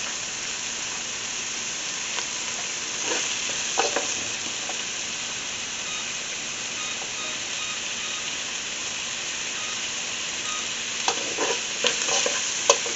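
Onions and carrots sizzle steadily in a pot for lasagna soup, a constant close frying hiss with occasional soft scrapes and clicks of a spoon stirring them, with no talking.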